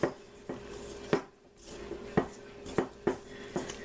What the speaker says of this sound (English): we just want to mix this till it's combined, but I'm using my dough whisk